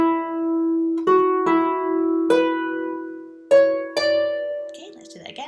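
A phrase of The Arran Boat Song played on Celtic harp: a handful of plucked notes ringing over a sustained low tone, each pluck decaying gently, close and unhurried with no voice.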